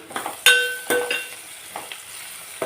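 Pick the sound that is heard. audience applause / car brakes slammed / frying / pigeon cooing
frying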